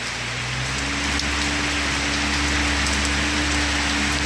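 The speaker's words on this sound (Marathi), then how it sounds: "वाढला आहे पाऊस खूप पूर्ण अंधारून आलेला आहे बघा एकदम अचानक" Heavy rain falling on a tin roof, a dense steady roar of drumming drops close by, growing slightly louder, with a low hum underneath.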